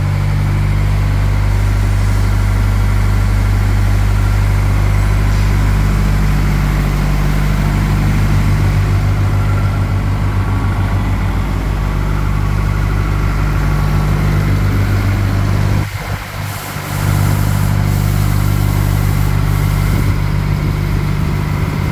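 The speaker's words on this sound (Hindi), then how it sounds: "ये आप देख सकते हो जेनसेट स्टार्ट हो चुका है।" A 25 kVA silent diesel generator with a Tata engine runs nearby, a loud, steady, low droning hum that holds throughout with only a brief dip partway through.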